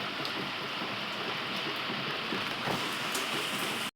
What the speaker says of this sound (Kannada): ಹೊರಗೆ ಫುಲ್ ಮಳೆ ಬರಕುಂತೈತ್ರಿ ನೋಡ್ರಿ